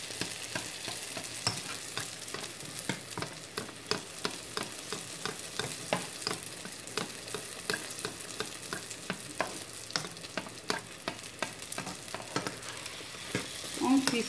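Algerian sfenj beignets frying in hot oil while oil is spooned over them, a steady close crackling sizzle with dense popping throughout and light stirring clicks, no voices.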